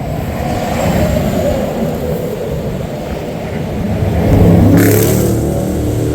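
Steady roar of highway traffic speeding past a parked truck stopped with a blown tire, with a louder vehicle swelling through near the end, continuous and close.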